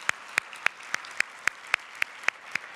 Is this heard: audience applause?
yes